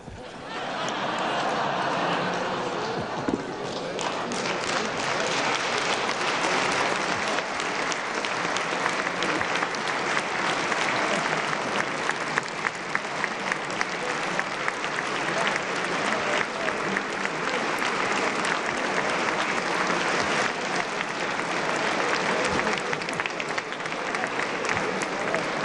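A large audience at the 2020 West Virginia State of the State address keeps up loud, sustained applause for nearly half a minute, with scattered voices mixed into the clapping.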